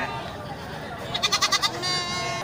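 A small young male goat at a livestock market gives a quick run of about five wavering bleats close by, set against a low background murmur.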